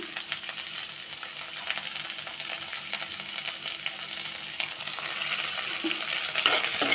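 Tomatoes frying with okra in hot oil for a dry, waterless okra stir-fry: a steady close sizzle with occasional scrapes and clinks of stirring, growing slightly louder toward the end, with no voices.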